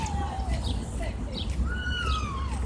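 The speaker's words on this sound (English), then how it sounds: "Look, the bird's over there." Birds chirp and whistle nearby outdoors, several rising and falling calls scattered across the moment over a low background hum.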